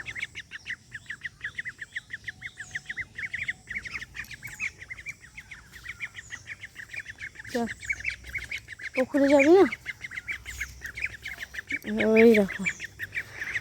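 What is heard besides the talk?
ducks quacking near a pond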